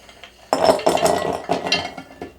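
Chocolate pieces drop into a bowl for millionaire shortbread in several sharp clinks and clatters, loud and close, with no voices.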